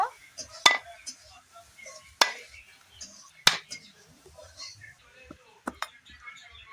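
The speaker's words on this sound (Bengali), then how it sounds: "তো দা দিয়ে ছাড়াবো নারকেলটা। নারকেলটাকে ফাটিয়ে নেব।" A coconut is cracked open with a machete: three or four sharp, hard strikes land a second or so apart, then a few lighter clicks, with quiet handling sounds and soft talk between.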